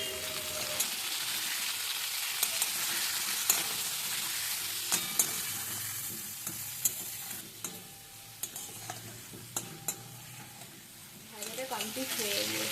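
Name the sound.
vegetables frying with salt and turmeric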